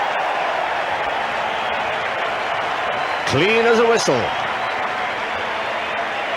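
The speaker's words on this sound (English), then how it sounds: "the crowd rise to acclaim this young all-rounder from Victoria" A cricket crowd at a 1984/85 World Series Cup match applauding a batsman's shot, a steady distant roar of clapping and cheering with a commentator speaking briefly over it.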